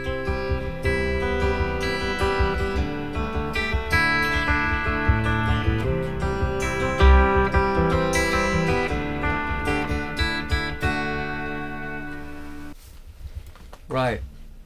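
A clean electric guitar in drop D tuning runs through the Neural DSP Archetype Rabea amp plugin, playing ringing chords and melodic lines at a strong steady level, then breaking off into a short sliding, warbling phrase near the end.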